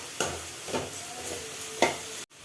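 Carrots with turmeric and rock salt stirred in a hot pan, a steady sizzle broken by a few sharp spoon scrapes and taps, close and fairly quiet.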